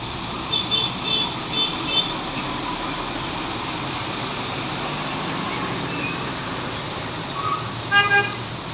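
A PT Rapi bus on the road from Medan passes on a foggy morning in Aceh, its horn giving several short toots early on and again near the end over steady traffic rumble.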